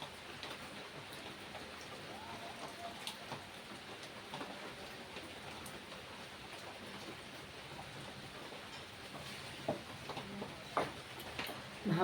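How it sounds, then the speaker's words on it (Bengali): Rain falls steadily, a soft, constant hiss with scattered faint drips and taps on surfaces, fairly quiet and even throughout. "বৃষ্টি হচ্ছে কিন্তু বন্ধুরা"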